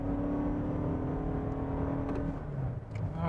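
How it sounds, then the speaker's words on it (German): A 2019 Toyota Corolla 2.0 Hybrid pulls away from a green light, its engine whir and hum rising steadily as the car gathers speed, with road and tire noise heard from inside the cabin and no talking. "Weil beim Grünsignal können wir dann schön beschleunigen und fangen schon an zum Beschleunigen und es geht los."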